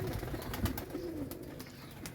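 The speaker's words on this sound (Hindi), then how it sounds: "इसी तरह से कुछ जालदार कबूतर हैं। तो मिक्स मतलब कि काफ़ी सारे अच्छे कबूतर।" Pigeons in a loft, including netted (jaal) birds and a Sialkoti pair, give soft low cooing calls at close range over a murmur of background noise.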